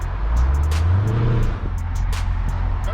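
A 2019 Dodge Charger Scat Pack engine roars loudly and steadily, its low rumble rising in pitch through a rev before dipping and settling back into a deep, continuous drone.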